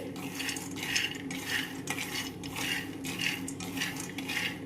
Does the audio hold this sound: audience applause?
no